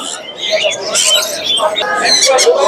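Caged pet birds, including small baby birds, call at the Mirpur bird market in a busy mix of chirps and squeaky calls, close and fairly loud, with voices talking nearby.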